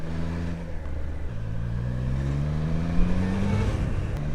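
A Triumph Trident 660 three-cylinder motorcycle engine revs steadily, its pitch climbing smoothly as it accelerates, heard close and continuous with wind-rushed road noise and no talking.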